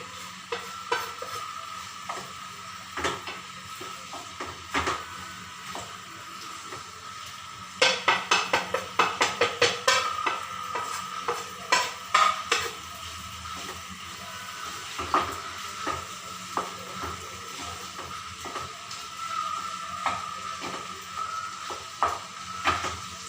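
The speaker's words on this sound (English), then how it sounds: "I need to mix everything nicely." A spoon stirs masalas into a vegetable curry in a pan, with repeated scraping and clinking strokes over a soft background sizzle. The strokes come in an irregular rhythm, busiest in one stretch near the middle, and no one speaks.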